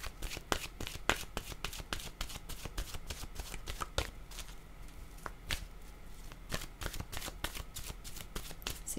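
Oracle cards being shuffled by hand, close-up, a run of sharp irregular riffles and slaps repeating over several seconds with soft rustling between, no talk.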